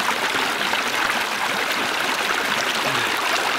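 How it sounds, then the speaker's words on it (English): Mountain spring water flows out from beneath a rock, a steady close rushing and trickling wash with no other sounds. "This water comes straight out from the mountain here. And the water is flowing right from underneath this rock."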